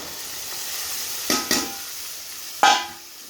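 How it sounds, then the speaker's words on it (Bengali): Potatoes stir-fried with mutton keema in a pan give a soft, continuous sizzle. Three sharp spatula scrapes and clinks cut through it, close and fairly quiet. "আলুটা দিয়ে কষিয়ে নেব।"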